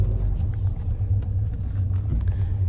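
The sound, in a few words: inside a car, rumble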